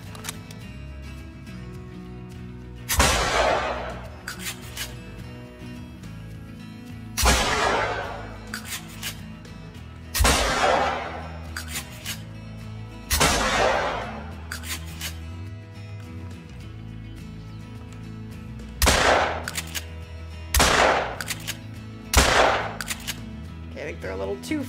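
Shotgun blasts from the 12 gauge Cacciatore in Call of Duty, about nine loud, sharp booms fired in uneven bursts, each with a short decaying tail over steady game background sound.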